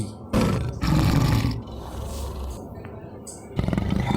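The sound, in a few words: tiger roar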